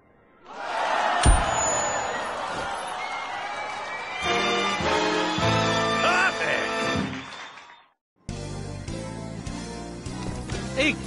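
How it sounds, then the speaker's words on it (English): Crowd applause and cheering in Skylanders Imaginators after an arcade song performance, a sustained roar of clapping that runs for several seconds, breaks off briefly, then returns, with music and game sounds mixed in. "I haven't heard applause like that in years."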